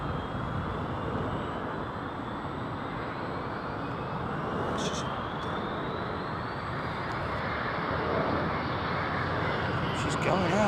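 A Falcon business jet runs at Seattle's Boeing Field, a steady, moderately distant turbine rumble and whine under scattered voices.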